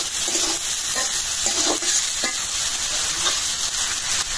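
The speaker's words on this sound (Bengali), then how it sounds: "পেঁয়াজ একটু ভাজতে হবে" Onions fry in a pan, a loud steady sizzle close by, with the scrape and clatter of stirring coming every second or so and no talk.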